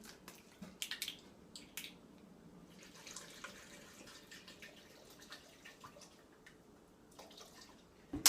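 Water pours steadily into a blender, a soft continuous splashing with a few small clinks, fairly quiet and with no one talking.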